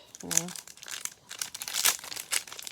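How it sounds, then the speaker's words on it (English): Packaging from a mixed craft-supply haul crinkles loudly and close up, with a sharp burst of crackling near the start and continued rustling and crackling through to the end. "massive crinkling sounds"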